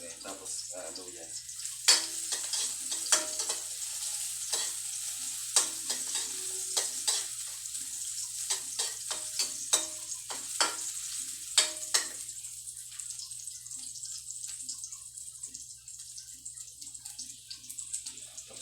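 Onion and then ginger sizzle in a pan for ginataang papaya with tulingan, a steady frying hiss under repeated sharp stirring clacks that thin out toward the end.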